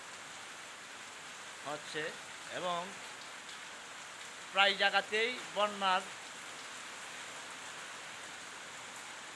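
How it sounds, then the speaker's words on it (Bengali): Steady drizzling rain hisses evenly throughout while someone speaks in short bursts over it. "সকাল থেকে সারা দিন ঝিরিঝিরি বৃষ্টি"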